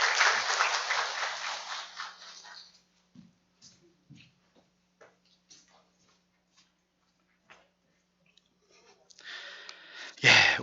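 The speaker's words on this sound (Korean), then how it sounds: "우리 다시 한번 박수로 격려해 주시기 바랍니다" Congregation applause during a church worship service: a loud burst of clapping fades after a few seconds into near-quiet with scattered small shuffles, then another round of clapping swells up at the end.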